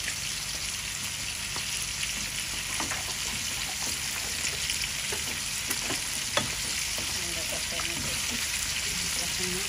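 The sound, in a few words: ginger and garlic paste frying in pan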